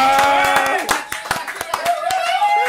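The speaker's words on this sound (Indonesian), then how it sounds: "Tepuk tangan dulu dong." A burst of sharp hand claps opens a live stream of the Seruput Tendang show, with quick uneven claps close by while voices keep talking over them.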